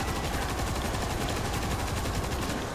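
Heavy gunfire from a big gun in the zombie shooter World War Z, a dense, unbroken roar of rapid shots pouring out loud and close without pause.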